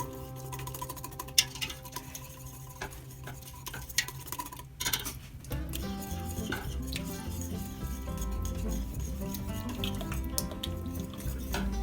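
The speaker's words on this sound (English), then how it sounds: "Keep stirring so it doesn't get lumpy." Stirring gluten-free mac and cheese sauce in a pot, a steady run of close metal scraping and clinks with a low rumble underneath and no talk.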